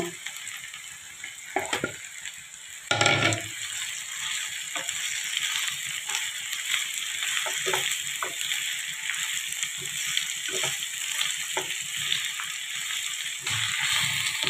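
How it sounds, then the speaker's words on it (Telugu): Gongura leaves frying in hot pure peanut oil for chicken gongura pachadi. There is a loud, continuous crackling sizzle, broken by sharp spoon-and-pan stirring clatters and one heavy burst near the start, with no talk. "ముందుగా మనం పక్కన పెట్టుకున్న గోంగూర వేసుకొని దీన్ని బాగా వేసుకుందామండి ఆయిల్లో."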